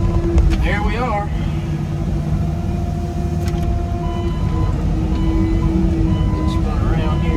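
A Cat 307.5 mini excavator dredging a creek runs its engine steadily and loudly throughout, a constant close diesel drone with hydraulic whines and clanks, while someone talks over it.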